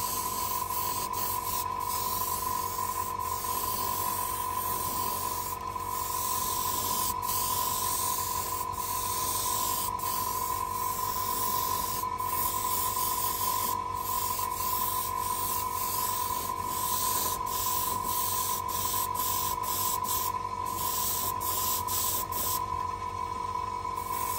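A steady, close hiss of spray paint laying a translucent red coat over a sci-fi model, continuing unbroken with faint flickers and a thin constant tone underneath.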